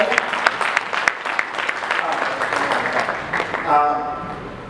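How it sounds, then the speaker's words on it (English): Conference audience applauding panelists at a CBR/CBID Africa disability conference, a sustained burst of clapping from a crowd in a hall that tapers off near the end. "Can we clap for the panelists?"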